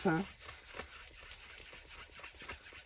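Fine sanding of a surface, a soft rhythmic scratchy rubbing repeated in short strokes, with a brief voice at the start.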